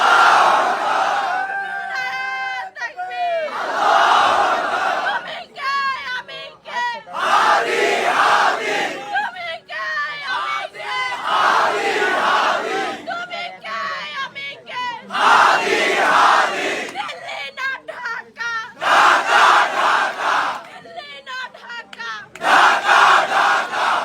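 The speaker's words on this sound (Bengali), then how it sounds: "যে মহিলাটা এই স্লোগান দিতে আছে" A woman leads a large crowd in rhythmic political slogan chanting. Her loud voice alternates with the crowd's massed shouted responses in repeated call-and-response bursts that continue steadily throughout.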